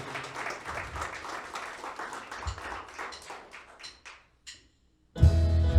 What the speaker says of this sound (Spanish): Vamos a dar un aplauso al Señor, el Rey de Reyes, amén